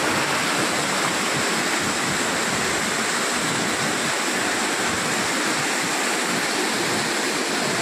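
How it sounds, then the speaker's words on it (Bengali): Fast-moving water rushes steadily at Panchalingeswar in Odisha, a loud, continuous broadband roar that is close and fills the scene without pause. "বিভৎস গতিবেগে জলটা আসছে।"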